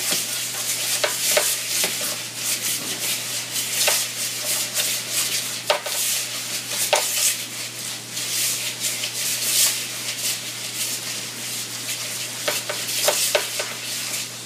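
Homemade sugar scrub mixture, bright hot pink, stirred steadily in a container, a close, continuous gritty scraping and rubbing with occasional clicks, over a faint steady hum.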